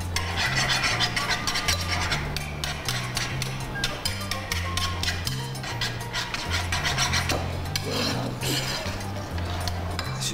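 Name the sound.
whisking a mixture in a bowl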